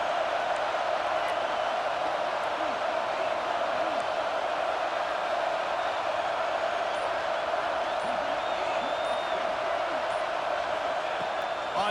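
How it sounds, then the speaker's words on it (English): Buckeye football stadium crowd roaring on a third down, a steady, dense wall of cheering and noise that holds constant throughout, with a commentator's voice faintly over it. "the Buckeye crowd alive on third down"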